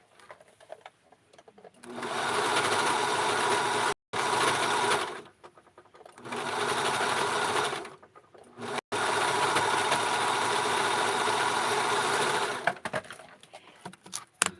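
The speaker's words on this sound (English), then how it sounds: "I'm going to put it through the serger" A serger overlocks the seams of a small doll dress in three bursts of fast, even mechanical whirring with short pauses between them, close and moderately loud.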